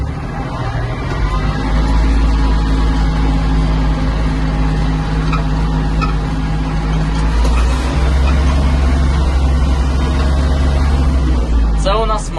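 A Kubota GL-260 Japanese mini tractor engine drones steadily while driving, a low continuous rumble held close throughout, with someone talking over it in places.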